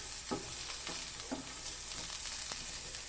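Garlic frying and browning lightly in a pan for a simple egg soup, a steady soft sizzle with a few scraping stirs of a utensil, close and moderately quiet throughout.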